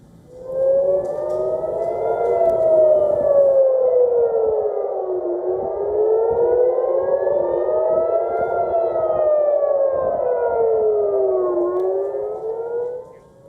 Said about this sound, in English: The incoming Houthi missile set off sirens over many areas across central Israel